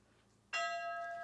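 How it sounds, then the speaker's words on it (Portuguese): A century-old church bell in the village of Tabajara, Rondônia, is struck once, loud and close, its bright metallic tone ringing on and slowly fading. "esse sino dela aqui também é um sino centenário e veio de fora"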